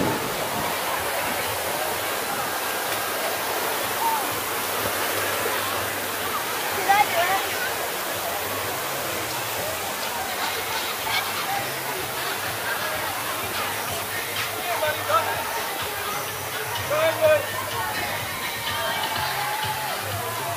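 A shower spraying water at a water park fills the scene with a steady, broad rush close by, with a faint crowd murmur behind it.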